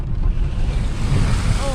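A camper van on a rough road in Argentina ploughs through a river crossing, with a steady loud rush of churning water and low engine rumble filling the whole stretch.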